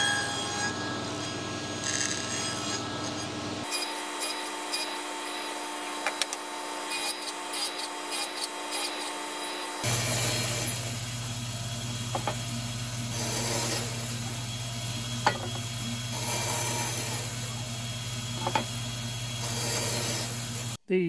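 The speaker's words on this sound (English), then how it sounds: "Now I'm going to cut the cheeks of the tenon." A hand saw rasps through the cheeks of a wooden tenon in a workshop, its strokes an even back-and-forth rhythm, close and moderate in level over a steady tonal background.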